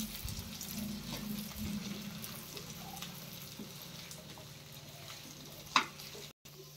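Bitter gourd fries in a pan while being stirred, giving a faint steady sizzle with soft scraping, one sharper clink near the end, and no talking.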